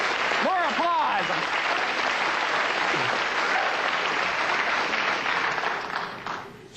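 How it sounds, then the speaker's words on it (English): A television studio audience on a late-night talk show applauds loudly, with a brief vocal cheer or exclamation over the start, then steady clapping that thins and fades at the end. "More applause."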